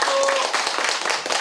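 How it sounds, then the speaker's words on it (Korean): A small group gives a brief round of applause in thanks, steady close clapping with voices talking underneath. "고마움의 박수입니다."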